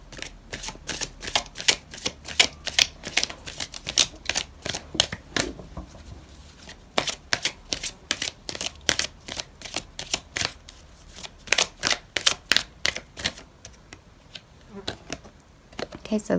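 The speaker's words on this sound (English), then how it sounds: "I'm going to pull out another card for you" Tarot cards being shuffled and drawn during a love reading, a long run of rapid, crisp flicking riffles in bursts with brief pauses, close and fairly loud, with occasional soft speech between the bursts.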